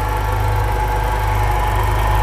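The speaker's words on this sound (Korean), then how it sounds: "엔진 소리 일정합니다." Volkswagen Scirocco 2.0 TSI R engine idling with the bonnet open, a steady, even low hum and hiss held close and unchanging throughout.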